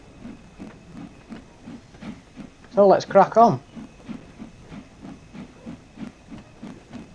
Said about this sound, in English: Seem to have no problems with this train pulling 14 other vehicles